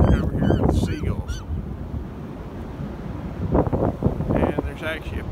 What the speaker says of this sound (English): now I'm just stuck over here with the seagulls